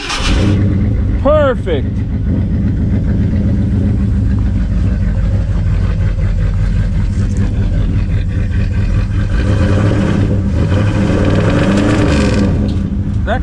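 A carbureted engine cranks, catches and keeps running at a steady, rumbling idle with a few light revs in a shop, while people talk over it throughout.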